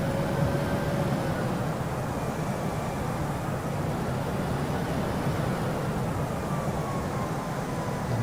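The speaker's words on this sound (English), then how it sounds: "The jet engines here almost sound as if it's a racing driver pressing the accelerator pedal on his race car." Airbus A319 jet engines during a step climb on a Gatwick to Manchester flight; a steady cabin roar with a faint rising whine running under it, continuous and moderately loud throughout.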